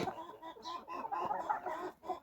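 Hens and roosters on a farm cluck in a steady, busy chorus of overlapping short calls, moderately near and fairly quiet, with no talk over them.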